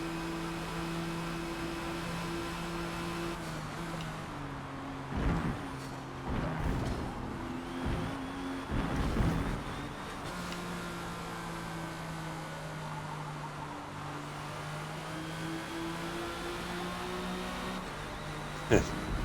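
A '97 Porsche GT1 race car engine drones steadily around Watkins Glen in Forza Motorsport, its pitch stepping up and down through gear changes, with someone talking over it throughout.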